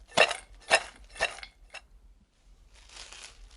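Smoked almonds get tossed inside a covered dish, giving three sharp rattling bursts in quick succession, then a smaller clatter, a pause and a soft rustle.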